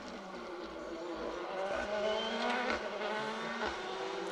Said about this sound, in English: Dale Robertson and Keir Beaton through in their Fiesta Rally 2